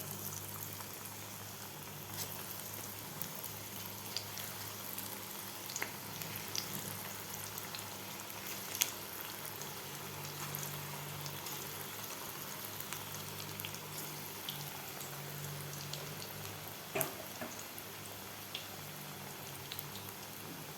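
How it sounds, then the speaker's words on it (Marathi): Corn pakodas deep-frying in hot oil, a steady bubbling sizzle with scattered crackles and pops that holds evenly throughout, close and moderately loud with no talking. "तर हे सुद्धा आपल्याला गोल्डन कलर होईपर्यंत तळून घ्यायचे आहेत पकोडे"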